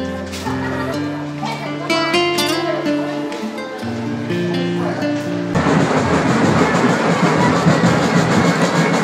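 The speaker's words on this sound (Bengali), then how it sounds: "চাঁদনী চক থেকে মেট্রো রেলে করে আমরা এসপ্ল্যানেড নিউ মার্কেটে যাই।" A Kolkata metro train ride: a voice over a tonal background in the first half gives way to a loud, steady rumble of the moving carriage that fills the rest.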